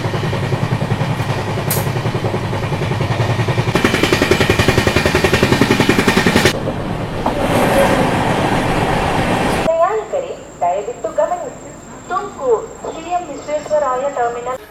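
A superfast express train on the Hubballi–Chennai route rumbles and clatters loudly past at close range for several seconds, then the noise drops away and people are heard talking.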